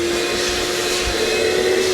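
A shop vacuum runs steadily and loudly throughout, a constant whining drone with a sharp tonal hum, in a room being finished with drywall and waterproofing.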